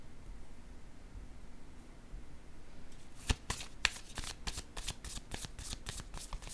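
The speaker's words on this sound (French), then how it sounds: "je vais piger une carte noire, on verra bien" Playing cards are riffled and handled up close, starting with a single snap and followed by a rapid run of crisp flutters and flicks over a quiet, hissy background.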